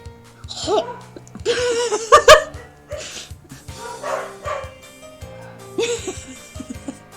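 Dogs bark and yip repeatedly in the video game LEN'EN 04, fairly close and loud in short bursts, with laughing voices and other game sounds mixed in.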